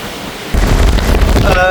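Strong post-storm wind buffets the microphone outdoors, a loud broadband roar that bursts in after a quieter half-second and keeps gusting steadily to the end.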